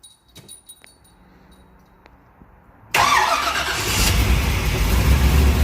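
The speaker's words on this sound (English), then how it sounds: "we're going to start this car up" A 1972 Chevy Corvette engine starts up: quiet clicks and shuffling first, then the engine catches with a sudden loud roar and settles into a steady, strong idle that grows slightly louder.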